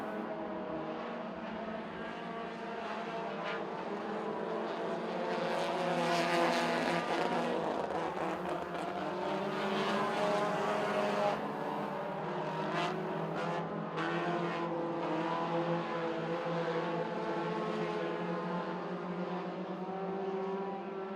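Front-wheel drive 4-cylinder race cars lapping a short dirt speedway track, a steady distant engine drone that swells and fades as the pack circles, faint and continuous throughout.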